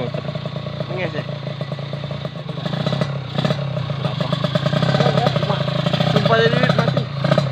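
A tuned Kawasaki Ninja RR two-stroke motorcycle at a drag racing setup buzzes steadily nearby, its engine note rising slightly as it revs, with people talking over the noise.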